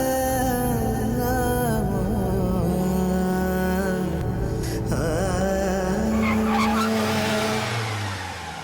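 An auto-rickshaw brakes hard to a sudden stop, giving a long, loud tyre screech with a wavering, squealing pitch that fades out near the end, and no voices.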